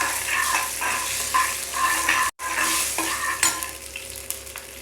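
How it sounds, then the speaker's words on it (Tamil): Crushed garlic, dried chillies and fenugreek seeds frying in oil for sambar, a steady close sizzle broken by stirring scrapes and a brief cut, with no talking. "இது கூட இடித்த பூண்டு 4, ஒரு 3 காஞ்ச மிளகாய். இது கொஞ்சம் நேரம் ஃப்ரை ஆகணும்."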